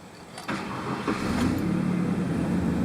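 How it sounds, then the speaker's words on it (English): A car engine cranks and catches after a cleaned mass airflow sensor is reinstalled, a short starter whir giving way to a steady, fairly loud idle close by. "let's go start up the engine and see our readings"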